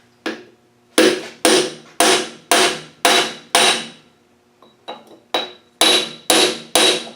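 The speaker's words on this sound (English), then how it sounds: "And I'll find a socket so we can knock this in." Hammer blows drive an axle seal in through a socket on a Salisbury axle being fitted to a Puma, eleven loud close metallic strikes in a steady rhythm with a short pause midway.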